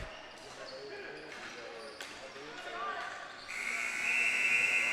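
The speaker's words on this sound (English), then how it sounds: "Final buzzer." Closing buzzer of a Masters-level game between the York Express and the NL Colonial Selects sounds as a sustained tone over the last second or so, following court noise, squeaking shoes and a commentator talking.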